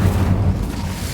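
Hogwarts Legacy's Incendio fire spell goes off as a short, loud whooshing burst with a low rumble that fades within about a second.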